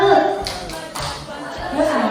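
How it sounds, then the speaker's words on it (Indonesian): Audience at a school gathering giving a short rhythmic 'tepuk salut' group clap, a couple of quick bursts of hand claps mixed with voices and light laughter. "Kita tepuk salut dulu ya."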